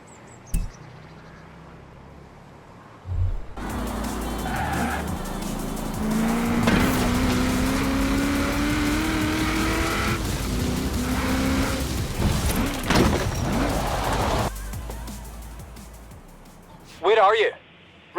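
Car tires skidding and engine revving in Forza Horizon 4, with an Aston Martin mentioned, heard as a sustained loud roar with squealing bursts before it fades and a voice speaks briefly near the end.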